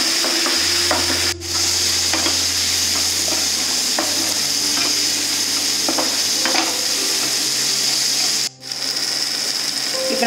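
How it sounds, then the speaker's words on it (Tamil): Drumsticks are stirred and sautéed with spice powder in a pan for a Chettinad patchadi, a steady sizzle running throughout with scraping spoon strokes and a low hum underneath. "நம்ம இந்த பொடியை முருங்கைக்காய் எல்லாம் நமக்கு நல்லா வதங்குற மாதிரி வதக்கி விட்டுடலாம்."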